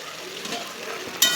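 Tomatoes fry in a pan of oil while a potato curry with posto is being cooked, a steady close crackling sizzle that grows suddenly louder and brighter near the end.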